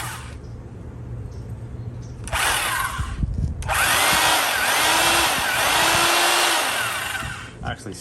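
A restored 1970s Craftsman drill, model 315.11360, whirs up in a short burst, cuts out, then starts again and runs at a steady high-pitched whine for several seconds, close and loud, before spinning down.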